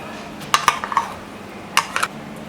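A utensil scraping and clinking against a bowl while rice flour, finely chopped onions and green chillies are mixed for potato pancakes, with two short clusters of metallic taps close up and no talk.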